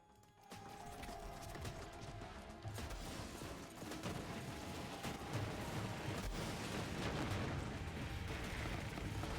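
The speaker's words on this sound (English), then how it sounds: "I'm sure those explosions are hitting" Video game explosions rumble in dense, continuous bursts of booming blasts and crackling impacts, loud and layered with mechanical clatter throughout, with no talk over them.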